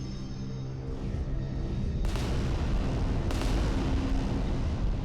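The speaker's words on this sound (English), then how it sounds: "I am using my plasma guns now." Titan plasma guns firing in Adeptus Titanicus: Dominus, heavy booming blasts over a constant low rumble, with two sharp loud bursts about a second apart.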